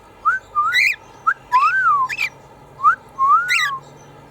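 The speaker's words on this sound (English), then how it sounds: "So Joey knows the most different whistles and things there." Pet cockatiel whistling a repeated tune, several clear rising-and-falling whistled phrases with short pauses between, close and loud with no talking.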